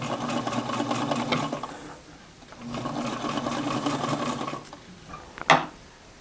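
Sewing machine stitching around the edge of a reusable cloth sanitary pad, two steady runs of rapid mechanical whirring separated by a short pause, close and moderately loud, ending with a brief sharp clack.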